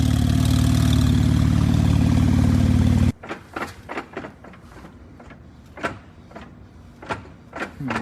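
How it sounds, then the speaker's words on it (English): An abandoned Porsche 911 Turbo with a suspected drive shaft problem roars loudly and steadily for about three seconds, then drops away to a quieter backdrop broken by scattered clunks and knocks. "This sounds like a drive shaft or something."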